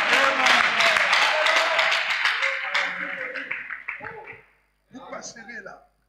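A church congregation at an evening prayer service breaks into dense, loud applause mixed with voices. The clapping fades off after about four seconds, then comes a brief second burst.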